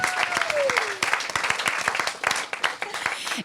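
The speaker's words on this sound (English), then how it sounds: "Let's have a round of applause for Kathy Kaufman" Audience applause for Kathy Kaufman, a dense, fairly close patter of many clapping hands across the whole stretch, with a gliding tone and scattered voices mixed in.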